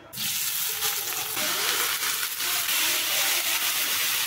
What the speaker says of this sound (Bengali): এটা আমি ভেজে ফেলি, তাহলে মার একটু তাড়াতাড়ি হয়ে যাবে।